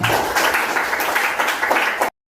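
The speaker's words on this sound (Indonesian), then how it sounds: "beri tepuk tangan dulu untuk kelompok" A classroom of students claps for a group in a brief, lively burst of uneven hand claps that cuts off abruptly after about two seconds.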